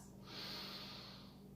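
A single deep, audible breath is drawn and released while holding a pose in a power vinyasa yoga flow, close and soft against a quiet room.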